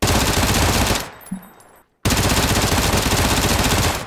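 Automatic gunfire from a recoil test in PUBG on the Erangel map: a loud, close, rapid burst for about a second, a short lull, then another sustained burst that runs to the end.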